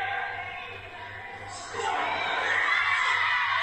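A wrestling crowd cheers and shouts behind the wrestlers during a match in Italy, a dense roar of many voices that swells louder halfway through and stays raised to the end.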